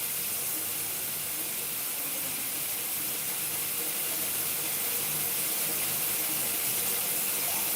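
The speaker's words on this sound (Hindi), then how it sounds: "बॉटल में पानी भर।" Water pours from a tap into a bottle, a steady broadband hiss and rush that stays constant and fairly loud for the whole stretch, no voices.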